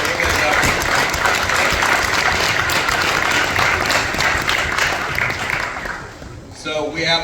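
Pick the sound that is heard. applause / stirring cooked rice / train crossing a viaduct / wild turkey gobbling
applause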